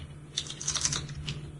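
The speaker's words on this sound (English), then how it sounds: "what are you typing?" Fast clicking of computer keys in short irregular bursts, moderately close over a low background hum, no talk.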